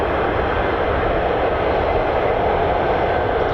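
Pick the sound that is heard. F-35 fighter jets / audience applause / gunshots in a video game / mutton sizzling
F-35 fighter jets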